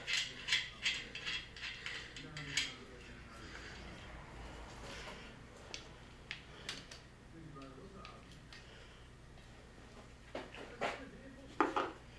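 A ratchet removing the strut assembly nuts on a 2012 Ford Explorer: quick bursts of clicking ratchet strokes near the start, then quieter metallic ticks and clanks, with a faint hum underneath.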